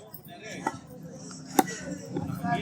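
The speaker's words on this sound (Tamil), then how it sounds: "இந்த மாதிரி வெட்டினாதான் இந்த கருவாலை மீனை பொறுத்த அளவுக்கு முள் எடுக்க முடியும்" A knife chopping through karuvalai fish on a board, with a few sharp, distinct cuts spaced apart amid soft handling noise and faint background murmur.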